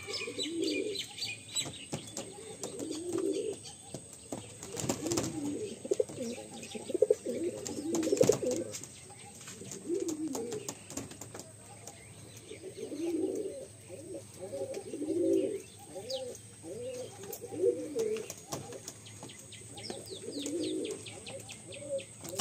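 Madrasi pigeons in a loft in Behala, coo steadily in repeated low, throaty phrases throughout, with occasional chirps and a brief flutter of wings.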